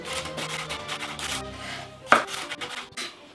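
A knife taps rapidly and evenly on a cutting board, mincing garlic up close, with a brief sharper clack partway through.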